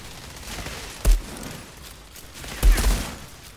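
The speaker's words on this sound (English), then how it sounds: "Oh, and there is an artillery fire coming in." Artillery fire coming in during the Outriders video game, two muffled heavy thumps about a second and a half apart over a rumbling battle background, moderately loud.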